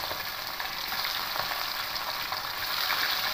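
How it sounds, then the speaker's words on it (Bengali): Pieces of silver carp fish fry in hot oil, making a dense, even, continuous hiss and crackle that stays loud and close throughout, with no voices. "এবার মাছগুলো তেলের মধ্যে দিয়ে দেবো।"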